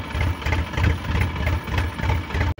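A tractor engine runs close by with a loud, steady low-pitched chug and a regular pulsing rhythm, ending with a brief sharp cut near the finish.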